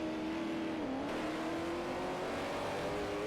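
Race car engines rev and accelerate in Forza Motorsport 4, a fairly quiet, steady engine drone with pitch sliding down then climbing again as a car pulls through a corner.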